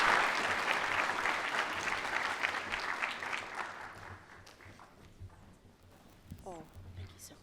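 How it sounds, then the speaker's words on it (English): A crowd claps steadily in dense applause that gradually thins and fades, followed by quieter room sounds and a few scattered noises. "Please give a round of applause for our guests."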